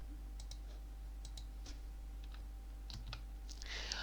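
Quiet computer mouse clicks and keyboard taps during work in MS Word, scattered single and double clicks over a low steady hum, ending in a brief rustle.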